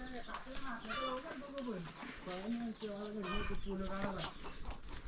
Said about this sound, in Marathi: त्यांच्या कोंबड्या पण आहेत